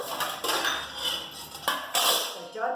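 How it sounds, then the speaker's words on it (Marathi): A pot is set down with a few sharp metallic clanks onto a plate on a lowered gas flame while vegetable pulao cooks, each knock close and bright against a faint background hiss. "पातेलं ठेवले."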